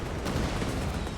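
Artillery barrage in the Company of Heroes 3 strategy game, British guns firing on German forces: a dense, continuous rumble of overlapping blasts and booms, loud and without a break, with no voices.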